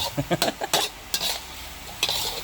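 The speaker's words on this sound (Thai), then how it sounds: "ก็ผัดจ้ะ ไม่ใช่ผัดวันประกันพรุ่งนะ ผัดต้นอ่อนทานตะวัน" Sunflower sprouts stir-fried with minced pork in a pan, a run of sharp scraping spatula strokes over a light sizzle, close and fairly loud, then a brief pause and one more stir.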